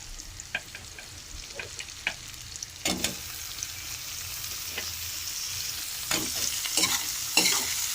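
Onions and tomatoes frying in a pan, stirred repeatedly so the spatula scrapes sharply against the metal over a continuous close sizzle, with no voices.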